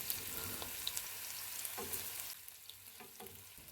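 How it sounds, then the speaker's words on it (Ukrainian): Steady crackling sizzle of sliced onion frying in hot oil in a pan, close and continuous, with occasional pops and light stirring scrapes. "розігріти олію на сковорідці і додати туди порізану на півкільцями цибулю"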